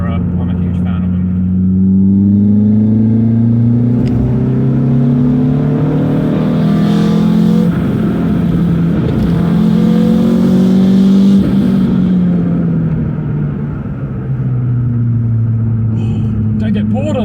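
A cammed Renault Clio 182 Trophy hot hatch revving hard, loud and close, the engine note sweeping up and down through several long rises and falls with a lumpy, raspy edge.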